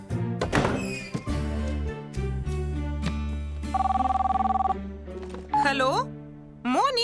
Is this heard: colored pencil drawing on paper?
no